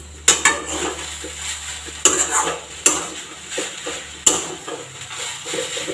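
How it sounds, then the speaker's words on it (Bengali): Mustard paste is stirred into a cooking pan, with a few sharp spoon knocks against the metal over a soft frying hiss, close and clear, with no voices. "এতে সর্ষে বাটা দিয়ে আমি কিন্তু বেশি নাড়াচাড়া করবো না জাস্ট একবার নেড়ে"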